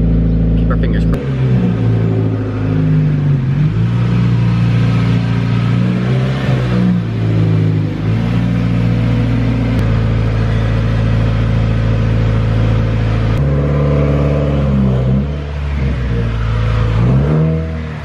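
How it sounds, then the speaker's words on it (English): A Subaru WRX with a check engine light fault idles and rolls into a garage, its steady low engine rumble holding throughout with small shifts in pitch as it moves, close and loud. "I'm gonna go ahead and pull the car inside the garage"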